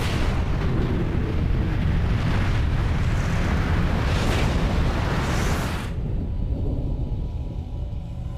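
Huge volcanic eruption on Santorini, rendered as a deep, sustained roaring blast with wind-like rumble that holds loud for several seconds and then drops to a lower, fading rumble.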